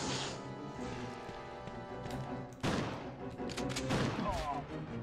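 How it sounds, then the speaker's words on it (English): A single heavy shotgun blast in the video game Resident Evil 2, one sharp loud report over a droning game soundscape with rain-like hiss and scattered impacts afterward. "I'll just shotgun him, I guess."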